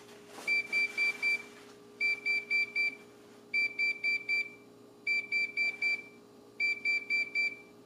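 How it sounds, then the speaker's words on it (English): A Presto Flipside Belgian waffle maker timer sounds its done signal: five bursts of sharp electronic beeps, each burst holding several rapid high tones, evenly spaced over a low hum and clear and close. "Those are the 5 beeps indicating that the waffle's cooked"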